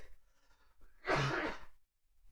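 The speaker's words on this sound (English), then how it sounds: "I'm really sorry, I keep coughing." A single harsh, explosive cough from a person sick with COVID, preceded by quiet breathing and faint background noise, then a brief silence.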